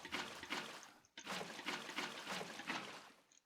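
Flowing water in a Minecraft water-block contraption, a steady soft trickling rush that runs continuously, briefly dropping out near the one-second mark before resuming, fairly quiet with no talk.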